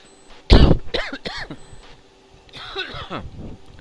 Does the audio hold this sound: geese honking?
no